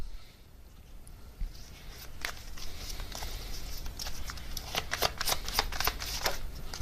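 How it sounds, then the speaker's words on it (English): Tarot cards being riffled and shuffled, a dense run of crisp papery flutters and snaps that builds and grows busier toward the end, close up with no talking. "This card just flew right out."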